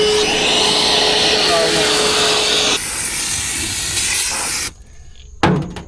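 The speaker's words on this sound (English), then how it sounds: "Got a lot of vacuuming to do and cleaning up." Vacuum cleaner running loud and steady while cleaning the stripped floor of a 1977 Jeep CJ-7 during rust repair, with a drop in pitch midway, then cutting off near the end before a brief burst of noise.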